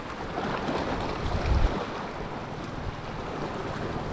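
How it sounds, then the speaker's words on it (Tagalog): Sea waves wash around a small fishing boat in a steady, breezy rush of water and wind noise, with one heavier slap of water midway and no voices. "Alon pala."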